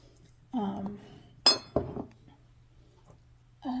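A glass Atlas jar with a wire closure gives a single sharp clink, close up, among soft vocal sounds and light handling noise.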